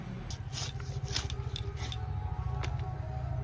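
A fresh, scaled rohu fish is cut into pieces. Close, soft crunching, slicing and squishing sounds repeat irregularly over a low background hum.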